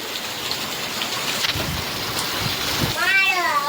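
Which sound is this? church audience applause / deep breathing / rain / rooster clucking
rain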